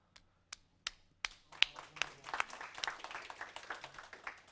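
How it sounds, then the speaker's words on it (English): A handful of people clap at a Java user group meeting in Osaka, starting as a few separate, evenly spaced claps before spreading into brief, moderately quiet applause from a small audience indoors. "so give him a round of applause."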